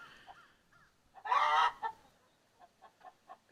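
A backyard hen squawks loudly in a sustained burst before laying an egg, followed by a run of shorter clucks at a steady rhythm, close by with no talking.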